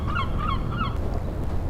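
A seagull calling outdoors near the water, three quick honking cries in a row, loud and close over steady wind or surf noise.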